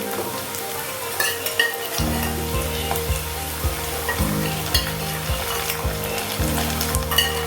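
Ginger-garlic paste and onions sizzle in a pan for a country chicken gravy, with a constant fry under repeated stirring scrapes and spoon knocks close by.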